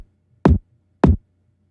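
Two punchy layered kick drum hits for a reggaeton beat, each pairing a sharp transient click with a deep boomy low end, sounding alone with a steady gap between them.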